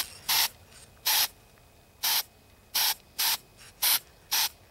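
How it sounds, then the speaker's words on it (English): Seven short, sharp bursts from a spray can, each a brief hiss about half a second apart to a second apart, close and clear. "just very lightly spray."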